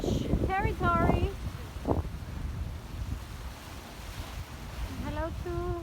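Strong 32-knot wind roars over surf and waves around a sailing boat at sea on a passage from Guadeloupe to Puerto Rico, a broad, rushing wash under voices talking near the microphone.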